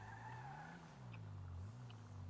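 A car skids with a sustained tire squeal and a droning engine, steady and fairly close, with no talk over it.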